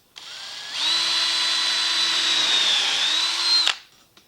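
A power drill whirs up to a steady high-pitched whine for about three seconds while drilling marked holes in a pedalboard riser, then winds down, with a couple of faint clicks afterward.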